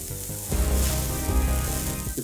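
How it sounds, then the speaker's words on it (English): Food sizzles gently inside a plugged-in cooking appliance, a steady soft crackle and hiss with no talking, heard up close for a couple of seconds. "It is sizzling a little bit."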